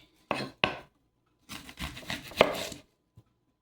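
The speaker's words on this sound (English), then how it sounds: "I'm gonna have to cut around this onion because it's on its way." Knife slicing through an onion on a board during home cooking, a few short crisp cuts with pauses, then a longer stretch of rough cutting and scraping, close and fairly quiet.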